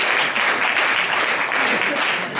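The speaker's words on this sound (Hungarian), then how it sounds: "Egy nagy tapsot kérnék szépen." Loud, close, dense clapping from a concert audience thanking the sound and lighting crew, a continuous roar of hands with a voice faintly mixed in.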